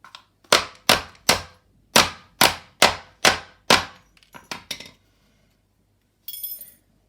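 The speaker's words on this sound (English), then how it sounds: "take that lock washer and hammer it flat again" A metal hammer strikes a steel lock washer to flatten it during repair of a Bugaboo stroller's central locking mechanism: about eight sharp, ringing clangs in a steady rhythm, then several quicker, lighter taps and a brief rattle, close and loud.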